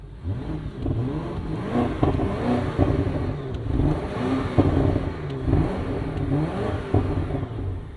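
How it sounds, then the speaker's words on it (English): A warmed-up 2023 BMW Alpina XB7 SUV's engine revs up and down several times, the exhaust burbling and popping between revs, loud and close with no talking. "let's give it a few revs"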